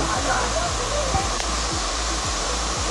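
Roar of Kundi waterfall, a steady broadband rush of falling water heard close up, continuous and loud throughout, with faint low thumps underneath.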